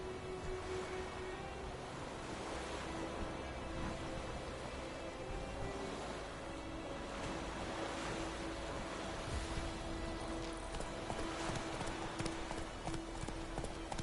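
Horse Roach's hooves clip-clop steadily at a walking pace in a fantasy video game set around White Orchard, with continuous ambient background and no talk over them.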